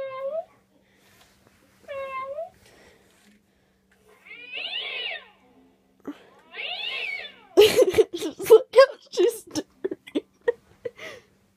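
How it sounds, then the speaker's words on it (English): A pet cat sits near a toy animatronic cat, with a few drawn-out meows and caterwauls at moderate volume followed by a rapid run of sharp, clipped sounds, with quiet gaps between them. "And there's my cat."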